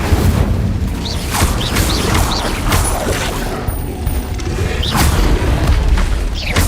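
The Incendio fire spell is cast repeatedly in the video game Hogwarts Legacy, loud booming bursts and whooshes following each other over a dense rumbling battle backdrop, with no talk.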